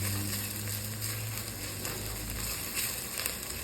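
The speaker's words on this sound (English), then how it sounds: "Just got to be careful the pot does not burn at the bottom. So keep stirring vigorously." Butter chicken curry base sizzles and bubbles in a pot while being stirred vigorously, a soft steady frying hiss with light scraping, fairly quiet and without talking.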